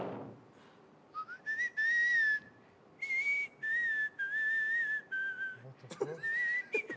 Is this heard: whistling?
yes